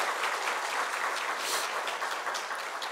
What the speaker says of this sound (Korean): 우리 큰 박수로 함께 축복하겠습니다